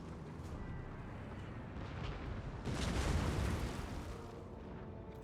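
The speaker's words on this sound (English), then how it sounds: "the artillery just can't shoot for toffee unless I research it" Artillery cannons fire on a battlefield in the Total War: Napoleon video game as a dense, continuous rumble of booms that swells louder midway.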